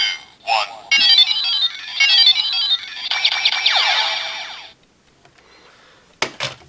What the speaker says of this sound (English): has an interesting kind of countdown noise, and that is indeed a carryover from the original